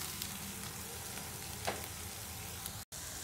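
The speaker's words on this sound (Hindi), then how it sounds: "1 मिनट तक मसालों को भी अच्छे से भूनने दूंगी मैं" Spices for an aloo matar (potato and green pea) curry sizzle steadily as they fry in a pan. The hiss is close and constant, with one very brief dropout near the end.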